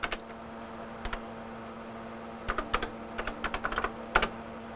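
Typing on a hypersensitive computer keyboard, scattered clusters of sharp key clicks with pauses, close and fairly quiet over a low steady hum.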